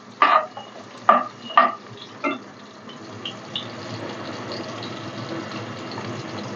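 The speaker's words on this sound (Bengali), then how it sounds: "এই দেখুন আলুগুলো ভাজা হয়ে গেছে।" Potatoes frying in a pan for a Bengali koi fish curry with cauliflower, with a few loud stirring scrapes early on and then a steady, quieter sizzle.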